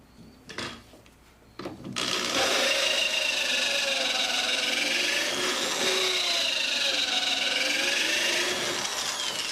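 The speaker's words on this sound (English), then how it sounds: "I dialed this drill motor down so it's not running real fast." A slowed-down power drill bores steadily into a wooden door, a continuous close grinding whir with a wavering pitch that follows a few brief knocks and starts.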